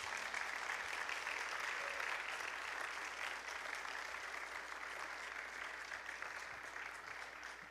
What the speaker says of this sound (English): Everybody else, I want you guys to give these kids a round of applause.